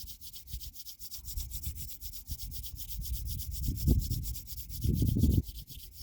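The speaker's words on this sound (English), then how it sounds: "I'm going to rub my hands together." Palms rubbing together in a quiet evening meditation setting, a steady dry friction hiss swelling into two louder, closer bursts of rubbing toward the end, with no talking.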